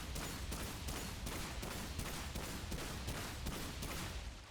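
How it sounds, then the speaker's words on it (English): Rapid gunfire from a weapon in the video game Remnant 2, a dense steady burst of about a dozen shots at an even pace, loud and close, with no talking. "whenever we fire those 12 rounds"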